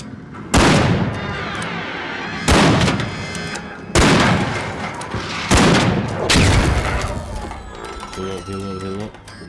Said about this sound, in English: Where the heck is he shooting me from?